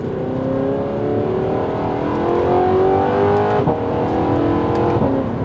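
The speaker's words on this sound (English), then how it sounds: "exhaust sounds absolutely unbelievable" A car fitted with a Top Gear valved F1 exhaust, valves open, revs and accelerates with a loud rising engine note and a sharp crackle near the end, heard alone without talk.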